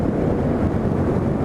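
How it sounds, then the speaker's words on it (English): Motorcycle on an open road with steady, loud wind buffeting across the microphone, a continuous broadband roar without breaks and no talking. "I'm out for a ride now with my freshly fitted heated grips, doing a bit of a road test."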